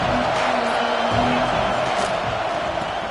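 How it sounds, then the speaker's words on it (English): Broad, steady roar of a stadium crowd at a football game, loud and sustained throughout with a faint swell near the middle, no distinct voices standing out. "This crowd ready to make its presence known."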